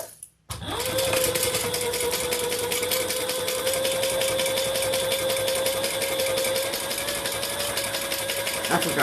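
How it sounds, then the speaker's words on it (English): A sewing machine stitches across a custom bag in one long, steady run, its fast mechanical whir and rapid needle clatter close and continuous after a brief start, with faint talk underneath. "And then we're going to stitch across"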